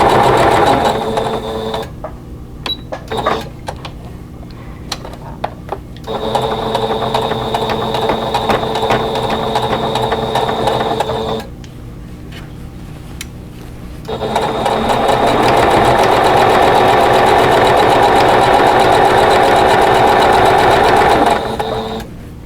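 A sewing machine stitches seams of table runner fabric with a steady, close mechanical whir and clatter, running in long bursts separated by brief pauses.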